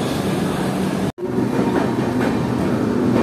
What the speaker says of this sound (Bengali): শিয়ালদা থেকে বিকানের এসি দুরন্ত এক্সপ্রেস।